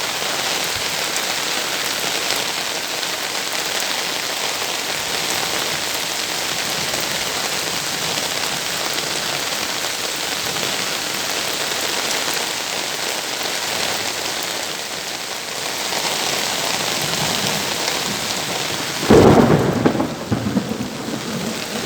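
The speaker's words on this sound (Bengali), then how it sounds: "দেখতে পাচ্ছেন প্রচণ্ড বিদ্যুৎ চমকাচ্ছে" A village thunderstorm brings steady heavy rain pouring on surfaces, with a sudden loud thunderclap crashing near the end over the continuous downpour.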